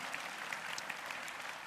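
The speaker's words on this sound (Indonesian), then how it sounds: "Wow, beri tepuk tangan dong buat Bang Coki." A church congregation gives faint, steady applause for Bang Coki, with even clapping heard from a distance and no talk over it.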